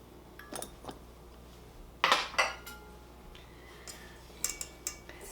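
A whisk clinks against a bowl while dry salt, sugar and milk powder are mixed for Parker House rolls, giving a few brief, close metallic taps and rattles with quiet pauses between them.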